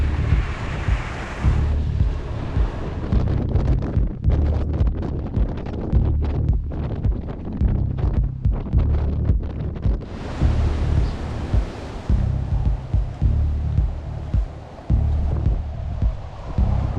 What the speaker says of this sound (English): Winds blowing from the northwest.